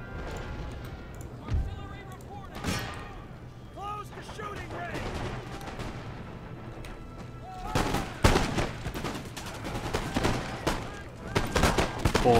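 Howitzer artillery fires in the video game Empire: Total War, a battlefield of booming shots and sharp cracks scattered irregularly, growing denser and louder toward the end, with a voice talking over parts of it.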